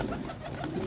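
High-flyer pigeons in Lahore coo softly and continuously, a low burbling murmur close by, with no other sounds.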